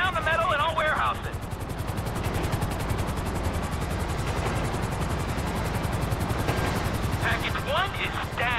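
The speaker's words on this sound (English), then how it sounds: "There's two choppers coming toward my train." Two helicopters approach a train in Grand Theft Auto 5, their rotors producing a steady rapid chopping thud throughout, while voices speak over the top at the start and end.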